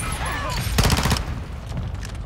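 Call of Duty multiplayer gunfire: a dense, rapid automatic burst rattles in the middle, then lighter shots follow, all over steady game background noise.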